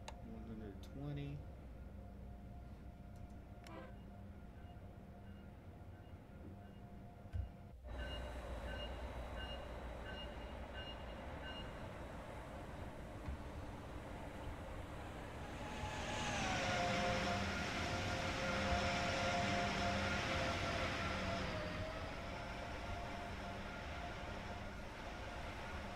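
An Acela Express train in the Train Sim World 5 video game running between Providence and Boston, with a steady rumble of wheels and motors, a sharp clunk partway through, then a louder rising whine and hum as the train moves on.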